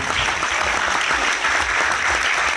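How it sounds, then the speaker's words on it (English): An audience at a live restaurant cooking competition judging event in Bangalore bursts into sustained, loud applause with a dense wash of clapping and some crowd noise throughout. "Round of applause for every restaurant who came here"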